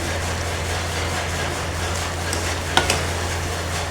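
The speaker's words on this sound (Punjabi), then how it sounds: "ਤੁਸੀਂ ਇਸ ਤਰ੍ਹਾਂ ਕੜਛੀ ਨਾਲ ਇਹਦੀਆਂ ਫਾੜੀਆਂ ਮੈਸ਼ ਕਰ ਸਕਦੇ ਹੋ" A ladle works pumpkin pieces in a pan while the vegetable sizzles steadily in the background, and a couple of sharp scraping clicks of the ladle against the pan stand out near the end.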